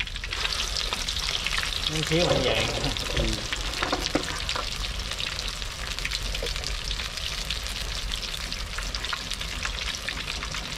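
Freshwater shrimp coated in batter fry in hot oil, giving a loud, steady sizzle. Stirring clatters through it, and a voice speaks briefly in the middle.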